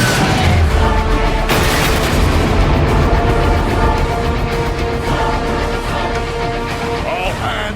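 Heavy cannon fire aimed at tow cables in Transformers: Fall of Cybertron, a continuous loud barrage of booms and blasts with dense battle noise throughout.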